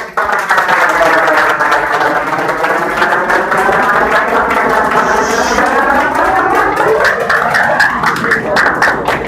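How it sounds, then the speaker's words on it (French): High school students clap together at a book presentation in Saint-Louis, Senegal, a steady close patter partly overlaid by a loud, gliding, humming harmonic tone that rises and falls through the middle. "je veux vraiment que vous l'applaudissiez"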